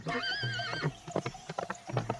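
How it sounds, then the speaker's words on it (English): A farm horse gives a loud, close whinny, followed by a rapid clatter of hooves galloping off, with no talk over it. "the horse ran away"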